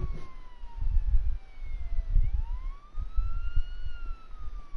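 Ambulance siren in the Police Simulator video game, a wailing tone that sweeps down and then rises again, moderately loud over low thumping background noise.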